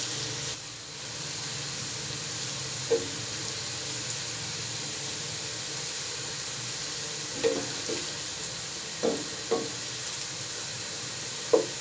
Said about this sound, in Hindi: सबसे पहले हम थोड़ा सा ऑयल लेंगे, उसमें हम एक प्याज कटी हुई डालेंगे और इसको थोड़ा सा ब्राउन करेंगे